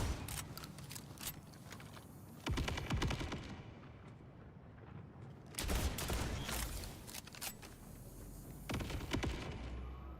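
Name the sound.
gunfire in Borderlands 4 video game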